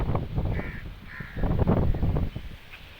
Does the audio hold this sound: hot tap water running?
no